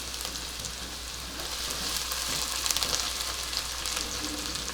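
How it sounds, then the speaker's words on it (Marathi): Two medium chopped onions frying in three to four spoons of oil give a soft, steady hissing sizzle that grows slightly louder midway, with no talk. "तीन ते चार चमचे तेल घातलेलं आहे इथे मी दोन कांदे मध्यम आकाराचे चिरून ठेवलेले ते घालते"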